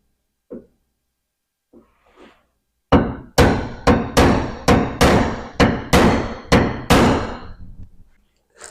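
A hammer strikes a center punch on a Toyota Tacoma hood, first with a few light taps, then about ten loud, sharp metallic blows in steady rhythm, close to the microphone.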